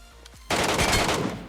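Video game gunfire with incendiary rounds aimed at a boss, a sudden dense burst of rapid automatic shots that goes on loud for about a second after a quiet start.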